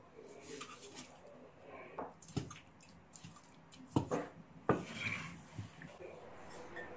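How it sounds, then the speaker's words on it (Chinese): A knife slices pork tripe on a cutting board, giving a few sharp, separate knocks amid quieter scraping and clinking in a calm kitchen. "猪肚改刀切片"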